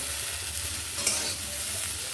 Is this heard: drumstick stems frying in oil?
yes